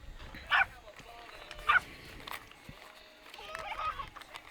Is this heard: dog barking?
yes